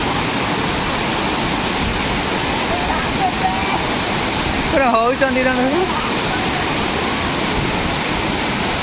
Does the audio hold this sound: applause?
no